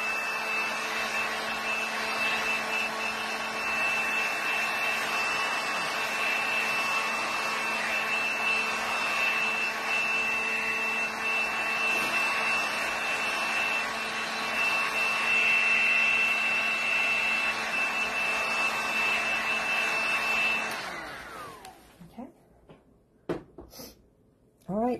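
A hair dryer blows a loud, steady whirring drone to dry a quick-drying glaze on a DIY art piece, running close for about twenty seconds before switching off, followed by a few faint handling knocks.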